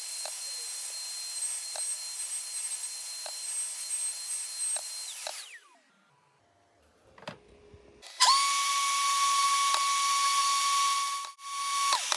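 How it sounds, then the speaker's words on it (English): A small router clamped to a workbench whines at high speed, steady and close, then winds down to near silence before restarting with a sharp, bright, sustained scream as it cuts into a small piece of wood. "So I'm going to clamp the router to the bench, and then I'll take the piece then to the router"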